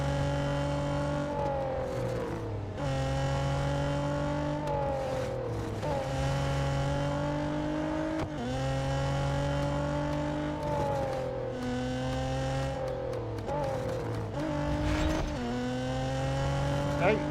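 Race car engines in the Real Racing 3 video game roar continuously, loud and near, with repeated upshifts and downshifts as revs climb and drop, and occasional tire squeal.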